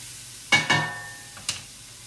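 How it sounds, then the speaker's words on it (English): A spatula scrapes and stirs tomatoes and onions in a hot pan, three short sharp strokes over a soft, steady sizzle, close by with no talking. "I'll give this one more stir."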